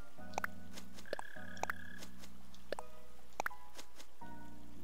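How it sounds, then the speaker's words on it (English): A cricket in the game Animal Crossing New Horizons chirps in short tonal trills that repeat a few times over soft, steady in-game ambience, quiet and alone without talk. "Oh, I hear one of those crickets."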